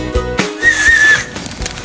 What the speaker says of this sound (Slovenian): Zapiskal sem malo.